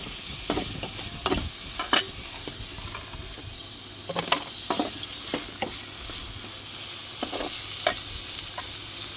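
Spices, coriander and curry leaves fry in a pan with a soft background sizzle, broken by repeated scraping stirs and light clinks of a utensil at irregular intervals.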